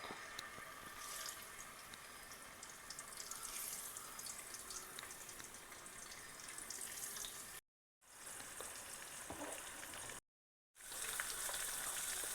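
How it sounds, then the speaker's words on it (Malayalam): Small sardines frying in hot oil give a continuous soft hiss and crackle, broken by two brief silent gaps near the end. "ഇതിലേക്ക് നമുക്ക് ഓരോ മത്തികളായിട്ട് ഇങ്ങനെ ഇട്ട് വറുത്ത് എടുക്കാം"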